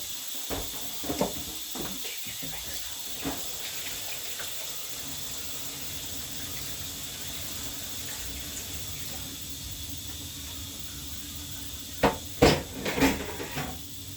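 Kitchen sink water runs softly while butter beans are rinsed, a low steady hiss and trickle broken by a few clunks and splashes and a cluster of louder knocks near the end.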